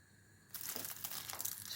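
Crisp, golden baked börek pastry breaks apart with a sudden dry crackle, followed by a steady run of flaky crunching and crinkling up close.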